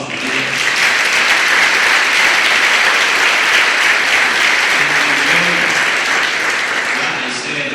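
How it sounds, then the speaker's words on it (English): A chamber of commerce audience at a State of the Town address gives sustained, loud applause, a thick even wash of clapping that holds steady and only eases slightly near the end. "a round of applause for that"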